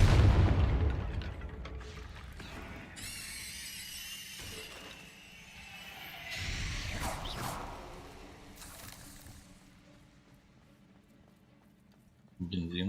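Confringo explosive spell going off in Hogwarts Legacy, a deep booming blast that opens loud and low, then rolls into whooshing, crackling debris that fades away.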